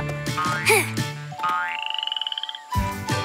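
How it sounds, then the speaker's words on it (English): Little cartoon jungle frogs croaking, a fast run of repeated pulsing croaks in the middle, framed by animated voices and playful sound effects. "These little frogs really stand out in the big jungle."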